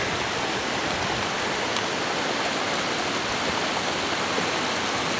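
Steady, loud broadband rush of a mountain stream flowing at high altitude, continuous and unbroken throughout with no voices.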